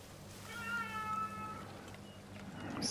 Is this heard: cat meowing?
yes